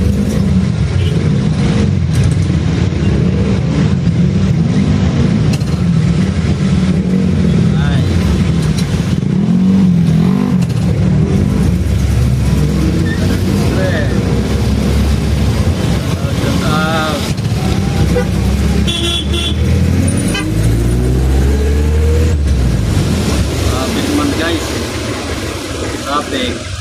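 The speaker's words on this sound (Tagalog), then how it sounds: "Traffic." Busy road traffic rumbles loudly and continuously, with car and motorcycle engines idling and revving close by and occasional brief horn toots within the din.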